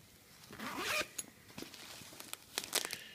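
A zipper on a large pocket of a Hazard 4 M.O.D. messenger bag is pulled open, a near, rasping zip followed by a few shorter tugs and faint fabric rustles.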